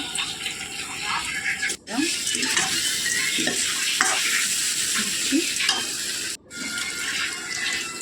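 Salt goes into an okra and prawn curry as it is stirred in a pot, a loud close sizzle and scraping that cuts off briefly twice before resuming.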